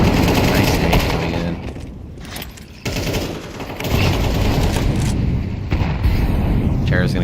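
Grenade blast and rapid gunfire in the esports shooter Entry Point: loud, dense bursts of automatic fire and booming impacts that dip briefly and then surge back, mixed with game noise.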